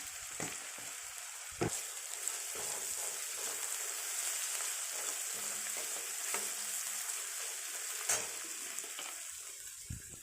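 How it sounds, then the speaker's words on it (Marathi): Onion sizzles steadily in a pan with salt and turmeric, a bright continuous frying hiss broken by a few sharp clacks of a stirring spoon, with no voices heard. "कांदा तळायला उशीर लागतो तर साधं मीठ टाकून घ्यायचं त्याच्यात थोडं लवकर तळल्या जातं"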